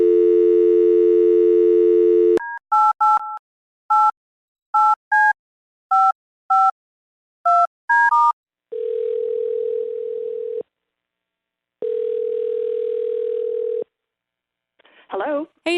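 A telephone call being placed: a steady dial tone, then a series of short, evenly spaced keypad tones, followed by two long ringback tones with a pause between them, loud and clear with no talk over them.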